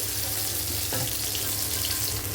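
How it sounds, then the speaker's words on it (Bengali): Soya chunks frying in a small amount of oil in a kadai give a steady, close sizzle that runs the whole time, with a brief clatter near the middle. "সব সয়াবিনগুলো একসঙ্গে আমি দিয়ে দিলাম দিয়ে ভালো করে ভেজে নেবো"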